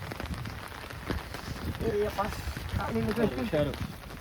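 Steady rain patters on a surface throughout, with voices talking over the downpour.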